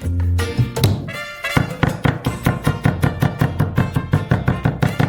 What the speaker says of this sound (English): Chop the garlic